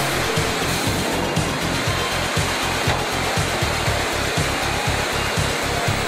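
A computer-controlled woodworking machine mills a timber rafter with a continuous loud whining drone and a steady low rhythmic thumping underneath, close and unbroken throughout.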